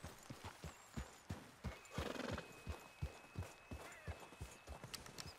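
Horse hooves clip-clop at a steady, close pace while riding in the video game Red Dead Redemption II. A short whinny and faint tonal game sounds come in partway through.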